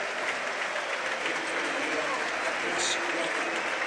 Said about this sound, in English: round of applause there for Teo going off